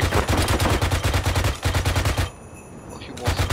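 Rapid bursts of automatic gunfire in the military shooter Arma 3, loud and close, firing in repeated volleys with a short pause before a quieter stretch, then shooting resumes at the end.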